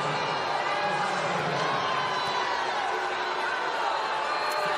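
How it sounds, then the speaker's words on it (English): Loud, sustained crowd roar at a WNBA basketball arena during a Minnesota Lynx vs Las Vegas Aces game, a dense wall of cheering that stays constant throughout. "Oh, and this crowd getting even louder."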